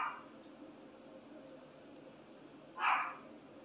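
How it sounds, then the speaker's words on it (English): A pet dog barks at a squirrel, giving a faint, brief yip or two from a distance over quiet room background. "my dog's probably just spotted that squirrel"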